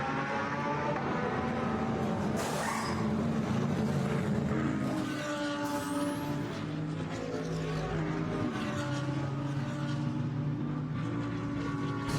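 A Mercedes GT race car accelerates out of the pits back onto the track at Magny-Cours, its engine note rising through the gears over a low background of other running engines, moderately distant.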